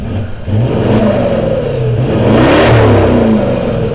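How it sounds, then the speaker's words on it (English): A Toyota Land Cruiser 200 with a DPF-back twin-exit exhaust revs up repeatedly through a deep exhaust, rising and falling pitch in several throttle blips, loud and close. "If you don't think a DPF-Back exhaust sounds good, well, you might want to think again."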